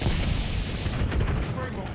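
Hellstorm missile strikes in a Call of Duty style shooter erupt in a dense, rumbling barrage of booming explosions and crackling blasts, loud and continuous, with game voices over them.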